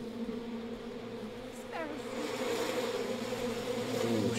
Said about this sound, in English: Warning, bees.